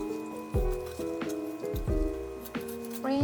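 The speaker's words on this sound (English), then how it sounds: "Remove any extra fat around the body with the kitchen scissors." Kitchen scissors snip away excess fat from a whole hen being prepared for samgyetang. Several separate close cuts land at uneven intervals, each with a crisp metallic ring from the blades over soft, wet snipping.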